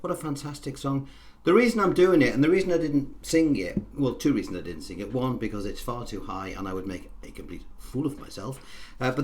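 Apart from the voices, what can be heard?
No everyday noise stands out behind the speech.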